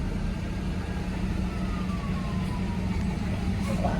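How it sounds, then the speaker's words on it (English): A distant ambulance siren wails faintly over a steady low rumble of engines and traffic. "Oh, now they got the ambulance."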